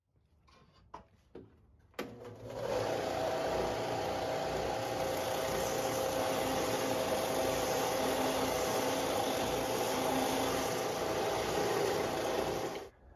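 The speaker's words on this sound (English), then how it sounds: "A few minutes on the sander," Sander grinding and shaping a recurve bow riser, a steady, continuous whirring grind that starts abruptly after a few faint taps and runs evenly until it stops.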